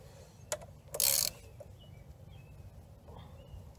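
A half-inch drive ratchet turns a bolt during a rear master cylinder swap on a 1981 Yamaha XS850 Special: a couple of sharp clicks, then one short, loud burst of ratcheting, with quiet background afterward.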